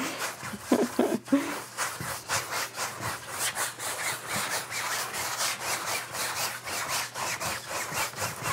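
A paintbrush dabs and crisscrosses paint onto a canvas for a winter evergreen landscape, giving close, rhythmic scratchy strokes in a quick, steady back-and-forth pattern.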